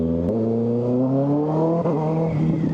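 A Kawasaki ZX6R 636 sport motorcycle engine in fourth gear revs hard under throttle, its pitch climbing steadily in a loud, close, continuous whine with no talk.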